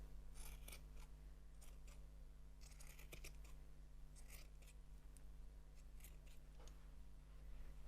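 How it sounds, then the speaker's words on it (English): Scissors trim a yarn pom-pom in repeated short snipping bursts, close and fairly quiet, over a steady low hum with no talking. "just give it a little light trim."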